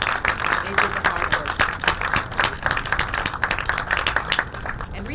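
An audience at a public announcement in Buffalo claps for several seconds, a fairly close, dense patter of hands that is moderately loud and holds steady before thinning slightly.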